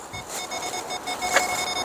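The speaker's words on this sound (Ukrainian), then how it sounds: "виключу, щоб не пікало" An Android head unit being fitted into a 2015 Peugeot 308 T9 beeps during installation, giving short, repeated electronic tones in a steady rhythm at moderate level in a quiet car interior.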